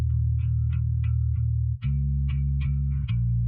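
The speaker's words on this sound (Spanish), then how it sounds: "Vamos a escuchar el bajo." An isolated bass guitar track separated from a full song mix by Moises AI, sustained low notes changing pitch about halfway through, with faint bleed of bright percussive hits above, steady and fairly loud with no talking.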